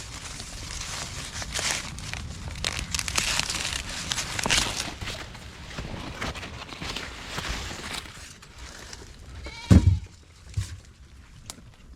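Goats on a farm in the Jamaican countryside eating freshly harvested corn, with steady close crunching, crinkling and rustling of husks and stalks throughout, plus a brief louder knock near the end.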